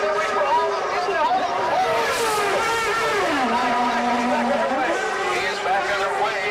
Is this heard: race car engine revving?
yes